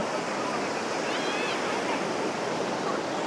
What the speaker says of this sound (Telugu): ఇక్కడ సముద్రం చూడండి సముద్రం అంతా ఒడ్డు ఒడ్డుకు వస్తూ ఉందన్నమాట